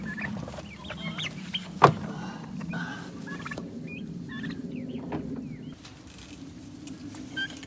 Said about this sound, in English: there's a little bit of interaction going on here between these two species, the chicken and the turkeys